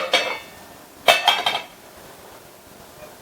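A lid set onto a pot of milk and poha on the stove, two sharp metallic clinks and rattles, close and crisp, with quiet in between and no talking.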